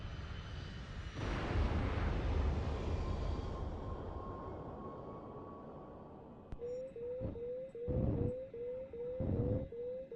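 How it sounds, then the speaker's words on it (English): An explosion in the video game H.A.W.X. 2, a sudden broad roaring blast that swells and slowly dies away. It is followed by a sharp crack and rapid rhythmic whooshing bursts with pitched tones. "That explosion was no accident."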